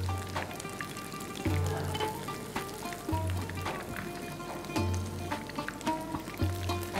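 Chicken pieces fry in hot oil with a steady bubbling sizzle that carries on unbroken, close by, with occasional clinks and small kitchen sounds over it.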